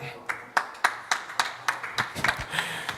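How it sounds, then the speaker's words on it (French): A studio audience claps for a returning guest on a live French entertainment show, with sharp, distinct hand claps spaced fairly evenly, thinner than full applause, with some faint background voices underneath. "On accueille et on applaudit Nadra à nouveau."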